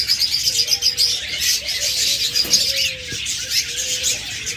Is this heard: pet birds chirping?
yes